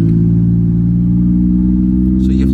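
A straight-piped Mercedes W204 C300 exhaust holds a loud, close, steady droning roar for a couple of seconds, with no clear rise or fall in pitch.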